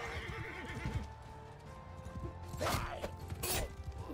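Horse in the video game Bannerlord whinnying loudly twice near the end, with clip-clopping hooves and battle clatter throughout, close and prominent.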